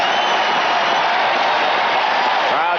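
A 1979 baseball playoff crowd at the Angels' home stadium roars steadily in a dense, continuous wash of cheering and applause, loud and distant, with no breaks.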